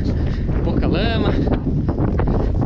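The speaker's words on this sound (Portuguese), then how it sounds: "Esse ventão aí que tá." Strong wind roars on a hiking trail, loud gusts buffeting the microphone continuously, with a voice talking over it.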